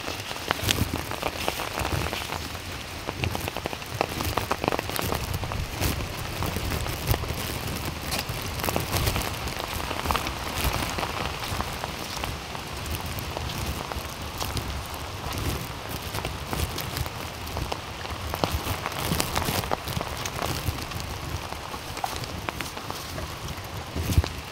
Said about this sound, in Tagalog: Ang ulan dito sa amin.